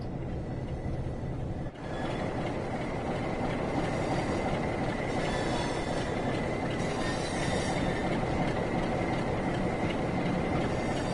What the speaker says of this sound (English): because we have to wait for a train to go past